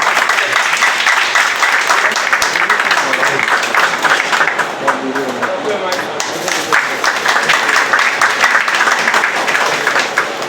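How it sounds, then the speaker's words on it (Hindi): An audience at an anti-corruption organisation's foundation-day event applauds with dense, sustained clapping that carries on for several seconds, with voices mixed in. "अगर अपने बारे में अच्छा लिखवाना चाहते हैं, बढ़िया फोटो खिंचवाना पेपर में जाना चाहते हैं तो ताली बजानी पड़ेगी।"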